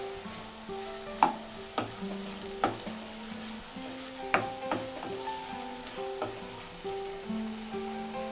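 A bottle gourd curry is stirred in a pan, with a gentle sizzle running underneath and repeated scraping, clinking strokes of a spoon at an uneven rhythm, heard up close and alone.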